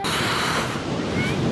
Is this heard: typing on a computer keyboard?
no